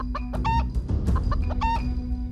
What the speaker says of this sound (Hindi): तभी छोटू को सड़क पे एक मुर्गा दिखाई देता है।